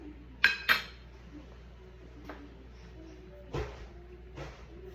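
A cooking pot of plantain and greens gets its lid set on with two sharp, close metallic clanks, followed by a few softer knocks and clinks against quiet kitchen background.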